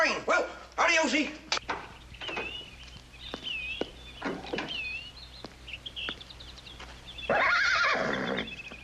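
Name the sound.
horse neighing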